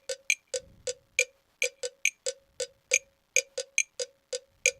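Programmed clap and cowbell samples from music production software play together in a fast, regular pattern of crisp metallic strikes layered with snappy claps, close and without voices.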